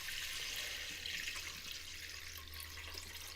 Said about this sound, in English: the first thing I'm going to do is add some water to my pot here